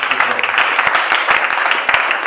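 A church congregation claps during a French-language service, a dense, steady wash of many hands applauding together, loud and close, with voices faintly mixed in beneath.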